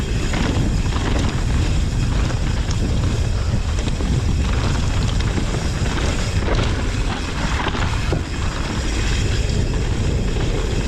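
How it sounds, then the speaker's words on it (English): Strong, steady wind roars and buffets close by on a wet mountain bike trail run, with rushing, gusting turbulence and a brief dip near the middle. "Quite windy."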